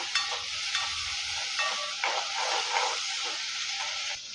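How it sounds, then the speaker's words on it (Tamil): Masala sizzles and hisses steadily in a hot pan while cooking fish curry, with a few sharp clinks of a spoon stirring now and then. "இது நல்லா கொஞ்சம் நம்ம பச்சை வாசனை போக வதக்கி எடுத்துக்கலாம்"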